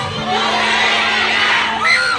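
A large crowd shouts and cheers loudly in one brief, continuous roar, with a few higher whoops rising near the end.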